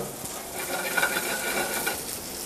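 Chopped cabbage searing in a hot oiled pan, a steady close crackling sizzle with faint stirring scrapes throughout.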